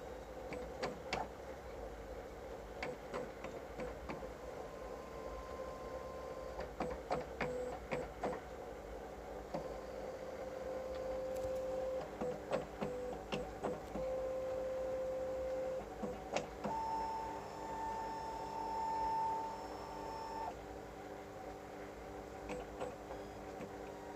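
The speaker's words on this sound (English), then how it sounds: "The printer is scanning the pamphlet." Mechanical whirring of an Epson WiFi printer scanning a pamphlet, with soft ticks, clicks and a sustained motor tone moving steadily, fairly quiet and without voices.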